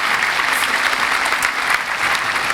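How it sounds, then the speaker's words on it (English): An outdoor festival audience gives a brief, steady burst of dense applause, fairly close and even in loudness. "I just let the applause die down"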